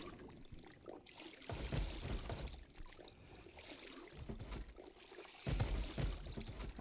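Clothes being washed with water in Project Zomboid, heard as splashing, sloshing bursts that swell and ease in a few uneven waves, fairly close and moderately loud, with no talk over them.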